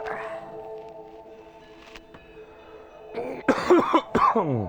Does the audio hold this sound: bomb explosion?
no